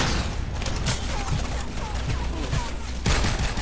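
Steady bursts of gunfire fill a match of the multiplayer shooter Nuclear Dawn, with repeated muffled shots and booms running throughout at a constant loud level.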